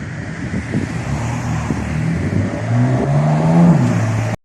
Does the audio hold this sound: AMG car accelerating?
yes